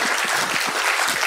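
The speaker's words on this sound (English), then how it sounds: "Let's give the panelists a big round of applause" Brief burst of audience clapping for panelists at a conference session, loud and dense throughout.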